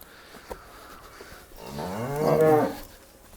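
A Jersey or HF cross heifer gives a single drawn-out moo that swells and fades, close by and fairly loud, after a quiet stretch of faint farmyard background.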